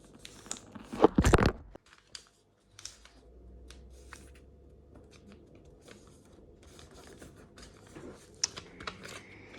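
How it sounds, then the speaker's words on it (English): Paper flap being folded for an origami F-22 jet: a loud, brief crinkling rustle of paper up close, followed by faint scattered handling rustles and taps against a quiet background. "basically just fold this flap up here"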